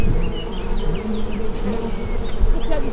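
Dense, steady buzzing of many honeybees swarming around an opened beehive, close and continuous, with individual bees whining past overhead.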